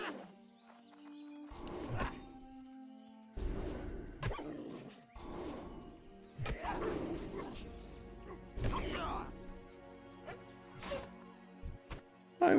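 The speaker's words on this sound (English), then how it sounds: "She hates the sound these poor wolfies make." Wolves in World of Warcraft yelp, snarl and whine in short game-audio bursts spread over several seconds, with clicks and interface sounds between them and a low background drone.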